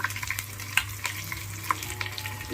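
Cashews, raisins and chopped capsicum fry in a pan with a steady low sizzle and intermittent scraping stirs, close and fairly quiet, with no voices.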